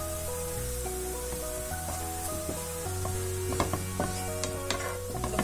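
Masala powder being stirred into a frying bottle gourd (lauki) kofta mixture in a pan, with a steady sizzle and scattered scraping clinks of the spoon, close and moderately loud, with music playing underneath.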